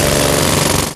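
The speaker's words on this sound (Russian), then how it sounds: "Сначала производим разборку асфальтобетонного покрытия компрессором." A compressor-driven pneumatic jackhammer breaking up asphalt paving during street repair, a loud, close, continuous rapid hammering that cuts off at the end.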